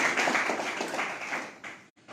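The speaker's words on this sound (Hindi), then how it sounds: "तो एक बार जोरदार तालियां भगवती जी के लिए होनी चाहिए।" An audience at a business meeting in Rajasthan claps steadily for about two seconds, a dense patter of many hands at moderate volume that stops abruptly.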